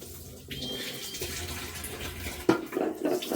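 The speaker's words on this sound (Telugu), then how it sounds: "కొంచెం హాట్ వాటర్లో కడుక్కోవాలి" Mushrooms are washed in hot water, heard as running and splashing water in a sink or bowl, with a brief gush midway and then sloshing and dripping close by.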